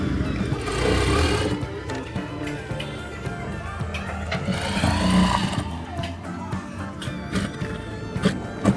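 A domestic sewing machine stitches a quarter-inch seam on a simple blouse in steady, rapid bursts, close and moderately loud, with a voice talking over the stitching throughout.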